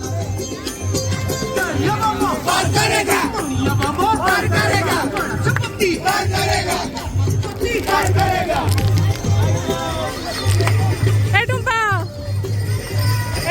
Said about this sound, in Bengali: যাই হোক, ভীষণ ভিড়, ভীষণ ভিড়।